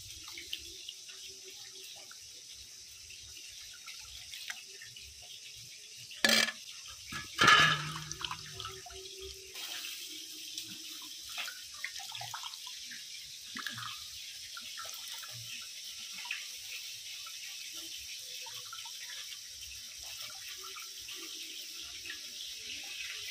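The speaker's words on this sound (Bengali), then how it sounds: "ছানাটাকে ভালো করে ঠান্ডা জল দিয়ে ধুয়ে নেব।" Cold tap water running steadily into a sink as chhana cheese curd is washed, a soft continuous hiss with a couple of louder splashes and clatters partway through.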